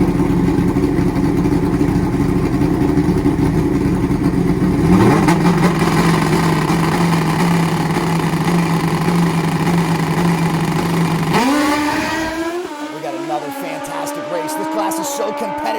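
500HP nitrous drag racing motorcycles roar down the track, a loud, sustained engine drone that rises in pitch as they accelerate, under a race announcer's talk.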